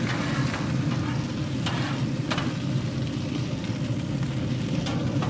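Smashburger patties sizzle steadily on a hot griddle after being flipped, a dense, continuous frying hiss with small crackles and a few light scrapes, close and fairly loud, with no talking.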